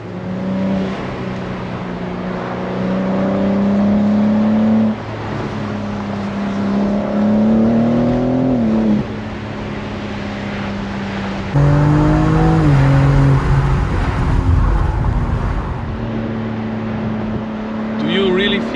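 A 2023 BMW M4 Competition G83 Cabriolet driven with the roof open, its engine droning and rising through revs with exhaust crackles, loud and continuous from inside the cabin, with occupants talking over it.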